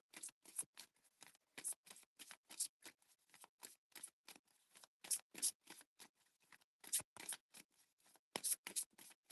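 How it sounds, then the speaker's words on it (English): A tarot card drawn from a love deck: a quiet, close series of dry, crisp swipes and shuffling flicks of card stock, repeating in irregular bursts with short pauses between them, alone without talk. "let's pull a card from the love deck"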